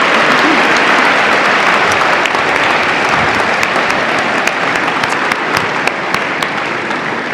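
Loud sustained applause fills a hall at an award presentation, a thick wash of many hands clapping at once, steady throughout with individual sharp claps standing out near the end.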